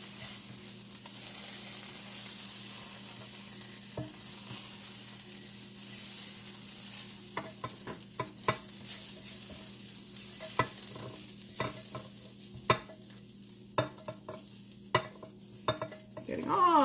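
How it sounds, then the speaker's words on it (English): Food sizzles steadily in a pan, with sporadic clicks and scrapes of stirring growing more frequent toward the end. "Let's turn off my frying pan."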